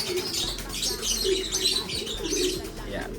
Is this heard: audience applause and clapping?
no